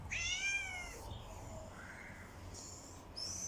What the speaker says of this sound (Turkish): Sokak kedisi.